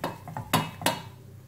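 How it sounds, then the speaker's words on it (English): Spoon scraping and knocking against a pan while stirring a flour-and-butter roux, a few sharp metallic clinks and scrapes close by with no talk. "Keep stirring to make sure it doesn't burn."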